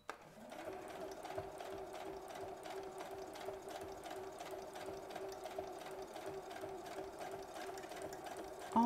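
A sewing machine runs steadily, stitching fabric for a belt bag made from recycled textiles, its rapid even whirr continuous and close for about nine seconds with no talk.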